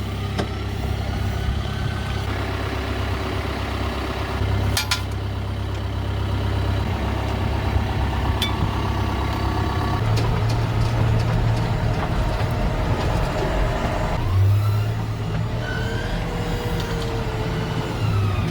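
A farm tractor drives toward the manure heap on a wet day, its diesel engine droning steadily and loudly throughout with rumbling low tones and occasional clanks, no voices over it.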